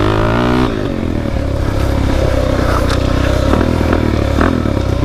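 A Suzuki DRZ dirt bike rips through a trail section, its engine droning loud and close with a steady throaty rumble after a brief rev, plus faint clatter from the rough ground.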